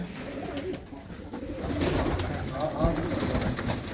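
Top-class pigeons cooing steadily in a loft, several birds overlapping in low throaty coos, close and continuous, with someone talking over them.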